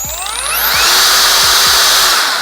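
A J.LD Tool 48V cordless angle grinder spins up with a rapidly rising whine that climbs to a loud, sustained high-speed scream, accompanied by a few low thumps.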